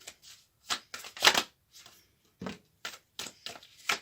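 Oracle cards are handled and shuffled close by in a series of short, crisp riffling bursts separated by quiet pauses.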